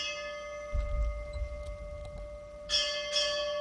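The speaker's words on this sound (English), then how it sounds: "The final ringing of the firefighter's bell." A firefighter's memorial bell rings out at a ceremony, a couple of clear metallic strikes with long ringing tones over a faint steady hum, the later strikes brighter and closer together.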